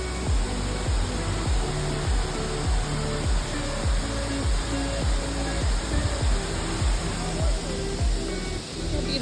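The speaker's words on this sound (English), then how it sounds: "What do you think of the waterfall," Millaa Millaa waterfall in the Atherton Tablelands rainforest pours as a steady, close roar of falling water, with repeated low thumps from wind buffeting the microphone and no talk.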